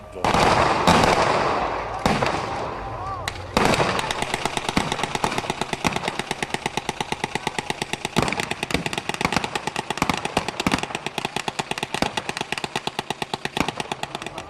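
Battle reenactment of a First World War clash between Russian and Prussian troops, with loud explosions from mortars and grenades at the start, then dense rapid gunfire crackling continuously and close by for the rest.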